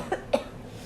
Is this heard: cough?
yes